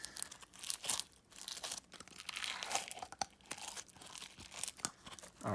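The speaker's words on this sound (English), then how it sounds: "the crunch on this is, you guys hear that?" Crunchy lemon-scented slime squished and pressed by hand, giving steady crackling, crinkling crunches in close, loud bursts for several seconds with no talking.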